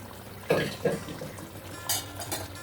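A few soft, dull thumps and a metallic clatter as cooked tapioca drops into a metal pot, followed by a light scraping knock.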